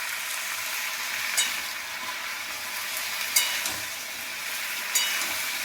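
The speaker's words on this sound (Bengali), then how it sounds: "আমি এটা কষে নিই।" Vegetables for a thin fish curry, including white radish, fry steadily in a pan with a continuous sizzle, broken by a few sharp scrapes of stirring at intervals.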